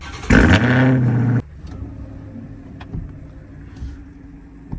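A U-Haul truck with push-button start: a loud engine burst roars for about a second, then drops to a steady low idle with faint clicks and rustles nearby.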